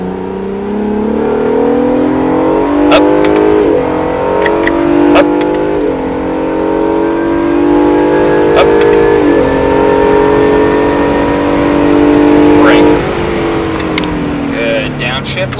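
An Acura NSX on the SpeedVegas track accelerates hard, its engine note climbing loud and steady through several gear changes, heard from inside the car while an instructor talks over the engine.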